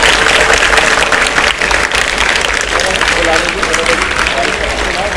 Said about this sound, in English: So, let's clap for our chief guest and Mr. Akram sir.